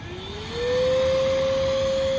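Electric air pump running on an Advanced Elements AirVolution inflatable kayak to deflate it: a steady, loud motor whir with a rising tone that settles into a constant pitch, no voices.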